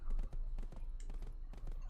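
A horse runs at a steady pace in Black Desert on PS4, its hooves landing in a quick, even rhythm of soft thuds over a low background rumble.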